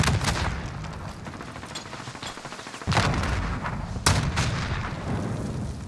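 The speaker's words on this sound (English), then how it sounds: "So many explosions" Explosions and heavy gunfire in the online shooter Modern Warfare during a Search and Destroy match, loud and dense, with two sharp blasts standing out midway over continuous rattling fire and no talk.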